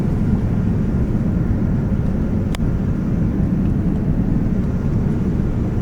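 Airliner cabin noise on a night flight from Barbados to London: a loud, steady low roar of engines and airflow that holds without a break, marked by one brief click partway through.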